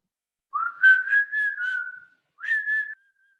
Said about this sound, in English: let's end with your whistle